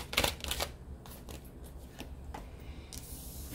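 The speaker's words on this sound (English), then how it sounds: "One more shuffle." Tarot cards being shuffled by hand, a rapid riffling flutter at the start followed by softer, quieter card slides and taps in a quiet room.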